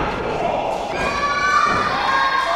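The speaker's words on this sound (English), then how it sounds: "O'Reilly fighting out, delivering the forearms to the chest of Calloway" Forearm strikes thud against a wrestler's chest at a live wrestling event, the dull blows buried in a loud, steady roar of cheering and shouting crowd noise throughout.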